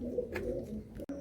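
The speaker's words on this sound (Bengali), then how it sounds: "এতে 12 পিস পায়রা থাকবে টোটাল।" Pigeons coo low and close inside a loft fitted with wooden cages, a soft throaty rumble lasting about a second.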